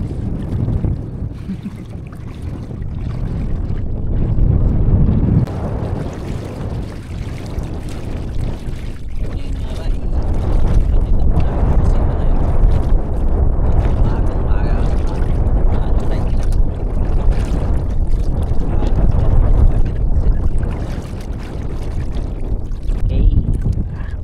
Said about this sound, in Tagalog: Umihip naman ang amihan guys